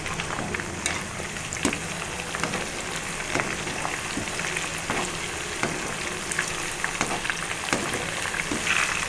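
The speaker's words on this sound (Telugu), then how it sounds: "మంచిగా ఫ్రై అవుతుందండి." Chicken pakoda pieces fry in hot oil with a steady, dense crackling sizzle, close and continuous, and occasional sharper pops and stirring knocks throughout.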